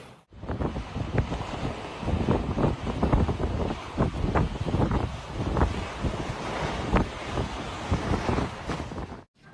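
Strong storm wind roaring in tornado alley, loud and continuous buffeting gusts battering the microphone with rough, rumbling surges throughout.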